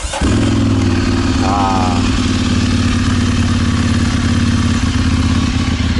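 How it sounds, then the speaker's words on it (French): A Ducati Monster 796 twin-cylinder motorcycle with a Termignoni exhaust fires up and settles into a loud, lumpy, throbbing idle close by, with a brief voiced exclamation early on. "faut tourner la clé et ensuite on démarre le bicylindre"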